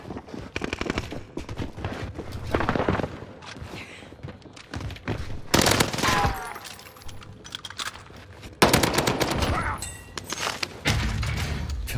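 A Bren light machine gun fires in an online shooter game, with loud bursts and single shots at irregular intervals over about twelve seconds, mixed with thuds and some faint voice.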